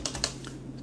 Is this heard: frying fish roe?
no